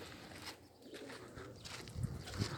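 Young Birmingham Roller pigeons around their kit box in the early morning give a couple of soft, low coos near the end, faint against a quiet outdoor background.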